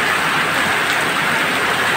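Steady rain falling on a hot, dry day, a dense, even hiss of drops on surfaces, loud and close, continuing without break and with no voices.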